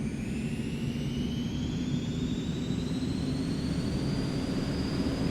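The engines of an Eclipse 550 jet in the X-Plane 11 flight simulator whine as they spool up for takeoff, a loud, steady roar with a slowly rising high-pitched tone.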